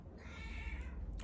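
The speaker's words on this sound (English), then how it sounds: "that's my cat in the background now." A house cat meows once in the background, a faint, drawn-out cry over low room noise.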